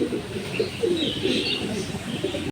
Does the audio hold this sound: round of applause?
no